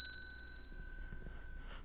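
A bright bell-like notification chime rings once and decays slowly over a couple of seconds, clear and close, with faint background noise and no talk.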